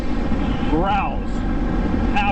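A Yamaha MT-10 with an Austin Racing exhaust rumbles loudly underway, the engine note swelling in a brief rev before settling back into a steady, gruff drone over wind noise.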